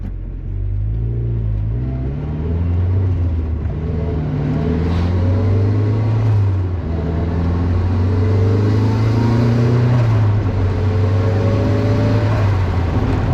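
A turbocharged 1997 Mazda Miata pulls away on partial throttle, its engine droning steadily close by, pitch rising and dropping as it shifts around 4000 RPM, with a continuous cabin rumble and no talk.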